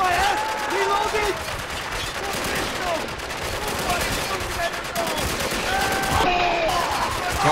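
Gunfire in a Spec Ops: The Line firefight, rapid shots and bursts crackling continuously at close range amid game voices calling out.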